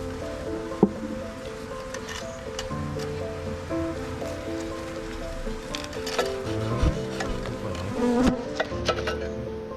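Honeybees buzzing around a hive being lifted out of a chimney, a dense steady hum close by with scattered knocks and handling sounds, and no clear talk.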